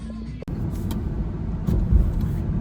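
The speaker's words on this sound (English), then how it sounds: "I'm in the car, headed to my signing." Steady road and engine rumble from inside a moving car on the way to an evening appointment, continuous and fairly loud throughout, with a brief dip and a thump near the start and a slight swell later.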